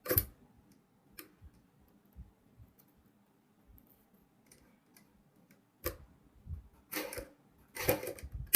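Sewing machine stitching a zip onto fabric, heard as quiet scattered ticks and clicks with short louder bursts of machine stitching near the end.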